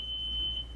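A drugstore or supermarket EAS anti-theft security alarm sounds a single sustained, piercing electronic tone over a low hum, with no talk.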